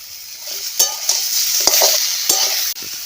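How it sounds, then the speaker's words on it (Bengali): Flat beans fry in a pan under a steady sizzle, broken by several sharp scrapes and knocks as a spatula stirs them. "সিমটাকে একটু নেড়ে নিচ্ছি"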